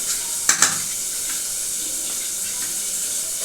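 Spice masala sizzles in a pan for a paneer curry with potatoes and peas, a steady frying hiss broken by a couple of sharp scraping stirs near the start, close and without talk.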